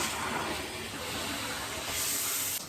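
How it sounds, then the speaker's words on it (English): A handheld shower sprayer runs water onto a bathtub surface, giving a steady, close, even hiss of spray that holds without a break for the whole stretch. "I just take my sprayer from my shower and I turn the water on and I spray my tub."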